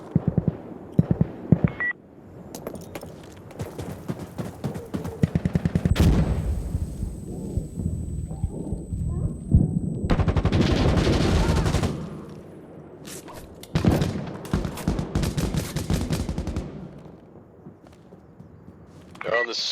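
Gunfire in the video game Insurgency Sandstorm crackles in bursts of rapid shots and fusillades, loud and near, with louder stretches mixed among game beeps and a player talking over the action.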